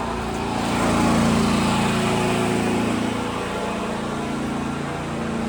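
A Champion 8750W portable generator runs on natural gas, a loud, steady engine drone close by that swells slightly and then settles, with no talking.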